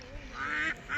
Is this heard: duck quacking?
yes